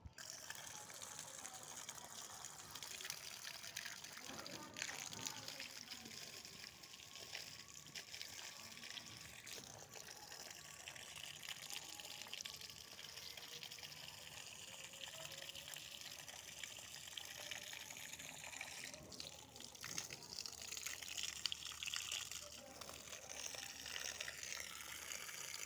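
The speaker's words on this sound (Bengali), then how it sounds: "একটু গাছে পানি দেই।" Water poured over garden plants, including rose and tulsi, on a foggy winter morning. A faint, continuous gushing and splashing flow runs through the whole stretch at low volume.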